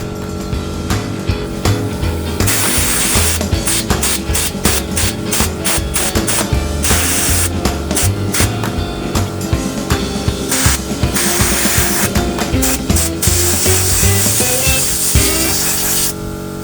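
Sandblasting a kids quad with a weak air compressor gives a loud, steady spray hiss that pulses on and off in quick bursts, with no talk over it.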